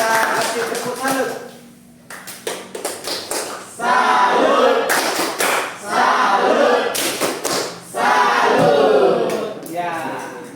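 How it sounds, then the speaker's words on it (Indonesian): A group claps in a short burst of applause, loud and close, mixed with scattered voices and cheering in a room. "Yuk kita kasih tepuk salut."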